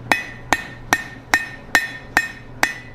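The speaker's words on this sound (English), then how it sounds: "Give it a few hammer blows." Seven evenly spaced hammer blows ring out on a hot forged steel fire poker, each a sharp metallic strike with a brief ringing decay, about two every second, close and clear over a low steady hum.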